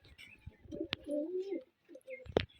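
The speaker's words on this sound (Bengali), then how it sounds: "নানার কবুতরের খোপ" Rajshahi Giribaz pigeons in an old family pigeon loft give low, throaty coos in a few drawn-out phrases, close by, with a brief sharper flutter or call near the end.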